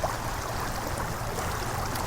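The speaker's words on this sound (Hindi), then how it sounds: "यहाँ से क्ले का पानी बहता हुआ खेतों की तरफ जा रहा है।" Floodwater from the Kley river rushes through a broken bund toward farm fields, making a steady, dense roar of flowing water with no pauses.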